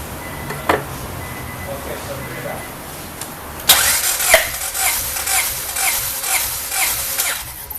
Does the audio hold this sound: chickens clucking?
no